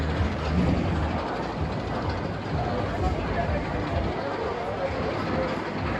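Steady rumbling and rattling of the Gemini roller coaster train running on track at Cedar Point, with a crowd murmuring in the background throughout.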